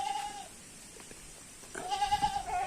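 Sheep bleat from a pen in a peaceful Indonesian village, with a short bleat at the start followed by a longer, louder bleat that trails off. The calls sound fairly close and stand alone over a quiet background.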